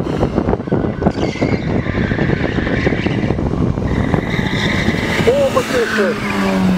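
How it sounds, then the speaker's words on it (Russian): A low-slung turbocharged race car accelerating hard through a speed maneuvering course in Mogilev, engine note rising with tire squeal and skidding, loud and close, with a commentator talking over it throughout. "Турбированный мотор."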